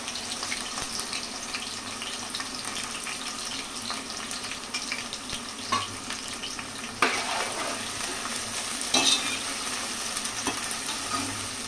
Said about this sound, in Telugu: కట్ చేసిన ఉల్లిపాయలను, పచ్చిమిరపకాయలను వేసేయాలి.